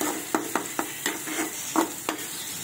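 Masala oats stirred in a pan, a series of distinct scraping knocks from the spoon against the pan at an uneven pace over a soft sizzle, no voices.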